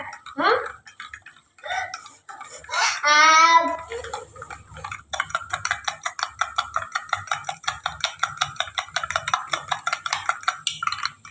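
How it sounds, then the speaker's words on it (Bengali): A spoon stirs a coffee mixture, making rapid, regular clinks and scrapes against the cup that run steadily for several seconds after a few brief, louder handling sounds. "এবার ঘেটে নিচ্ছি ভালো করে।"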